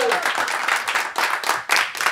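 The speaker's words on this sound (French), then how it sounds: "ça fait un moment qu'on n'a pas eu d'applaudissements pour Philippe Gueluc" Studio audience applauding in a radio studio, a short burst of dense hand clapping that carries on unevenly for a couple of seconds.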